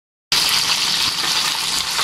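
Tilapia hits hot oil and sizzles loud and close, a dense, constant crackle of frying fish with no talk over it.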